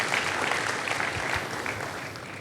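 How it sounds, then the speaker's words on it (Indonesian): A church congregation claps together during an Indonesian sermon, a dense, continuous burst of applause that holds steady and then begins to taper slightly. "Berikan tepuk tangan deh kalau begitu buat Tuhan Yesus."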